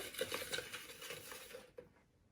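A spoon stirs sugar and yeast together in a bowl for hamburger bun dough, giving a quick run of light scraping and clinking strokes close by that stop abruptly near the end.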